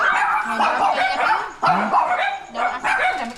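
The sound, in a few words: dogs barking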